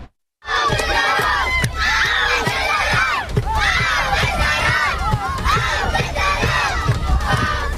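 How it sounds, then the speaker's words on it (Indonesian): Palestinian schoolchildren at a barbed wire fence shout together in a loud, continuous crowd clamor, many young voices overlapping in rising cries with no break. "Anak-anak sekolah Palestina berteriak meminta pagar kawat berduri Israel dibuka."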